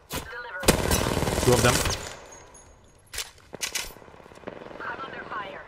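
Gunfire in the video game Apex Legends comes in scattered sharp bursts at moderate distance, mixed with a voice speaking briefly between the shots.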